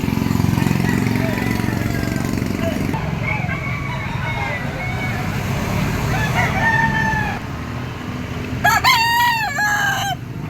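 Yellow-legged bull stag roosters crow repeatedly, loud and near, over a rumbling engine-like background, with people talking between the calls.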